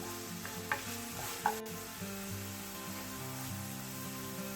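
Onions with balsamic vinegar cooking in a pan for a steak sandwich, a soft continuous sizzle with a couple of stirring scrapes early on, quiet and close under a low steady hum.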